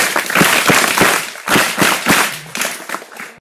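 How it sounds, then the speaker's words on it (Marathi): An audience claps loudly for a madam at a Savitribai Phule birth anniversary event, with sharp irregular bursts of applause rising and falling, close by and dense. "एकदा मॅडमसाठी आपण जोरदार टाळ्या वाजवूया."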